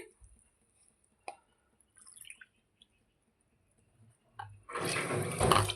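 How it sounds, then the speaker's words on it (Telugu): A cup and a half of water is poured into a pot on a stove already holding a cup of sugar, to make syrup for gulab jamun. A few faint drips and clinks come first, then a loud, steady splashing pour fills the last second or so. "కప్పున్నర వాటర్ వేసామండి"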